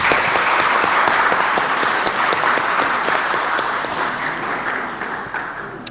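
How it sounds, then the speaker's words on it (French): Steady applause from a seated audience at a municipal council meeting greets a council member being introduced, a dense, sustained clapping that fades slightly toward the end. "je suis sûr que tous les 27 élus seront applaudis"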